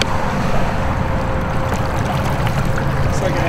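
A small boat with a Torqeedo electric motor runs at speed across a lake, giving a steady, close rumble of hull and water rush with wind noise throughout and no clear break.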